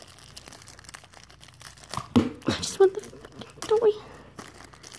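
Close, sharp crinkling and tearing of plastic blind-box packaging for Minecraft toys in short bursts, with a voice speaking briefly.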